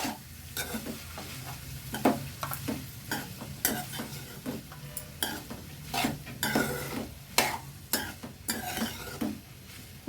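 Okra fries in a hot pan with a steady sizzle, broken by repeated loud scraping and clattering strokes of a spoon stirring, close and without talk.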